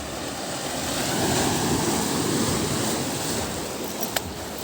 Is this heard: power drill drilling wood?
no